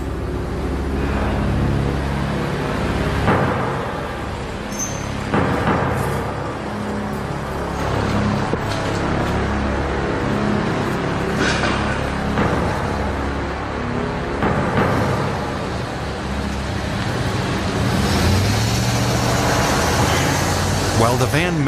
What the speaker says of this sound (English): A lot of cars going by